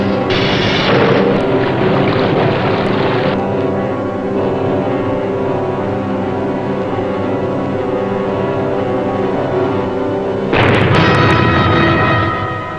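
Heavy booming explosions from torpedoes striking cargo ships, one loaded with oil, in a wartime submarine attack, a loud burst at the start decaying into a long rumbling roar, then another sharp blast near the end.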